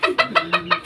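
Malaysian Serama chickens in a small cage give five quick, evenly spaced clucks, close and clear, with no talking.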